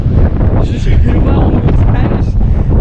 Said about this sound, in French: Il y a énormément de vent, c'est un truc de dingue